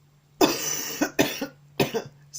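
A coughing fit from one person: three harsh, close coughs, each followed by a softer secondary cough, spaced unevenly over a couple of seconds in a quiet room.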